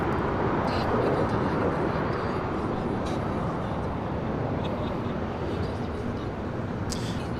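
A Delta Boeing 767-300ER crosses a runway at LAX, its engines a soft, even broadband rumble that holds steady for the whole stretch at a moderate distance, with faint airport background.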